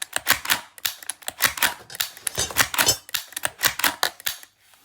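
Krytac Kriss Vector gas blowback airsoft rifle, fitted with an upgraded valve knocker spring, cycling in quick semi-auto shots: a run of about fifteen sharp, close mechanical clacks at a steady, brisk rhythm, with no voices.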